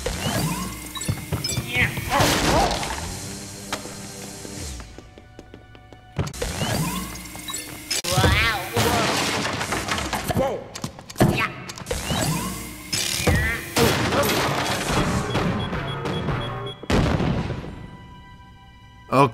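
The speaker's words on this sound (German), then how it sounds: "Okay, eine Bombe." Bomb explosions in Luigi's Mansion 3 come as a series of loud, crashing bursts with rattling, mechanical debris, several separate blasts spread over the stretch with brief quieter gaps between them.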